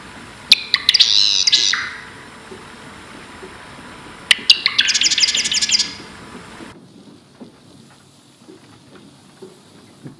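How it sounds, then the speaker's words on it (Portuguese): Bird chirps in the video game Season: A Letter to the Future come in two loud bursts of rapid tweeting and trills, each about a second and a half long. A quieter ambient background follows. "Pássaros."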